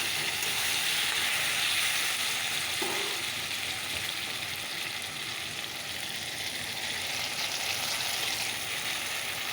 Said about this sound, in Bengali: সবজিটা ভাজা ভাজা হয়ে গেছে মশলাটা আমার হয়ে গেছে তো চলো এবার মশলাটা দিয়ে দিই